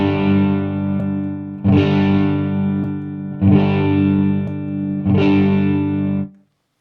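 An electric guitar chord is strummed four times through a Joyo delay pedal, each ringing with a processed, effected tone before the sound stops abruptly.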